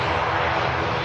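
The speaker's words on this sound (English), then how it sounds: "Airbus A319." Eurowings Airbus A319 jet airliner at Manchester Airport, heard as a steady, loud, broadband engine roar that holds constant through the whole second with no voices.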